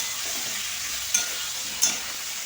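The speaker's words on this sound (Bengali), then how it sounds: "এটা হালকা একটু ফ্রাই হয়ে যায়" Salted vegetables, potatoes with broccoli, frying lightly in a pan, giving a steady soft sizzle with two brief stirring scrapes over it.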